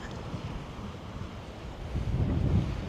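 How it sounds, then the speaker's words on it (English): Steady low rumble of surf on the Eyre Peninsula, South Australia, with wind buffeting the microphone, swelling louder toward the end as big waves break nearby. "A few big waves out there."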